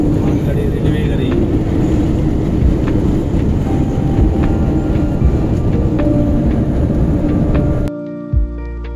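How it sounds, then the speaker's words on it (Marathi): A freight train passes in the rainy Konkan countryside as a continuous heavy rumble with wind noise. The loud roar is steady for several seconds, then cuts off abruptly. "ट्रेन बघा, मालगाडी जाते."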